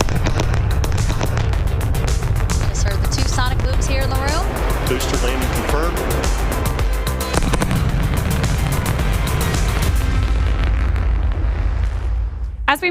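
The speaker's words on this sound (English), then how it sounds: "Just heard the 2 sonic booms here in the room." Deep booming blasts of a SpaceX rocket booster's two sonic booms rumble through a dense, continuous roar, loud and sustained, with a sharp thud near the end.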